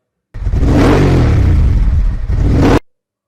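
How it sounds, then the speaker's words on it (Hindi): A motorcycle engine revs loudly and close for about two and a half seconds, a rough, throbbing roar that holds steady with a brief dip near the end before it cuts off abruptly. "मोटरसाइकिल।"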